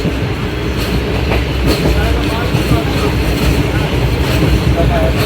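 The Karachi Express passenger train runs at speed between Multan and Lahore, a continuous loud rumble with rhythmic wheel clatter on the rails heard from inside the coach.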